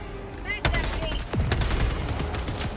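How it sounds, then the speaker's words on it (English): A sentry machine gun fires in bursts in a co-op action game with lit-up robots, sharp repeated rattling shots over game noise, with a voice speaking briefly. "Machine gun."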